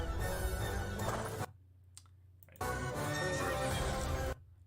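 A horse in the Zelda: Tears of the Kingdom game trailer neighs loudly against dense orchestral trailer audio, in two long bursts separated by a quieter stretch, with no talk.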